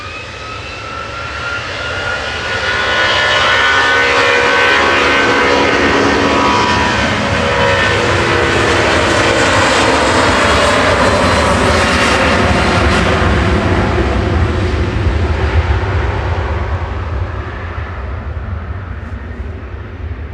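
A jet airliner on flight 863 to Mahon roars past at Manchester Airport, a loud sustained engine rumble with whining tones that swells, holds for many seconds and slowly eases, with no voices.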